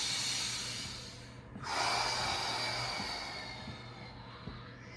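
Deep, slow breathing during a core yoga session: a long airy exhale swells midway and then tapers off, close and soft, with no talking.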